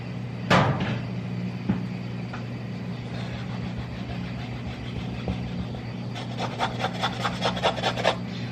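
A cooking pot is scrubbed by hand with a firm, rasping rub, steady at first and then quicker and more distinct in short strokes toward the end; no talking.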